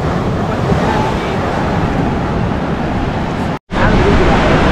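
Surf at Odayam beach in Varkala, a steady, loud wash of breaking waves with wind buffeting the microphone, continuous apart from a brief cut near the end.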